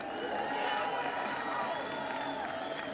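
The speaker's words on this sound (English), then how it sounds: "Let's give these people a nice round of applause for the 500." A crowd applauds swimmers after a 500 freestyle final at a senior swim meet, dense steady clapping with some cheering, partly under an announcer's voice.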